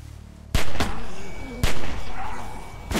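Gunfire in The Walking Dead Telltale Season 2 video game: three sharp, loud shots ring out about a second apart, each cracking over a tense, rumbling background.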